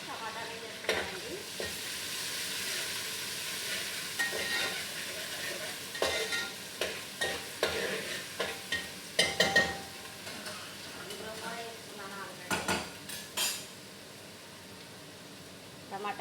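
Onions, ginger garlic paste and tomatoes fry for chicken biryani with a soft, continuous sizzle, broken by repeated scraping stirs of a spoon against the pan and faint talk beneath.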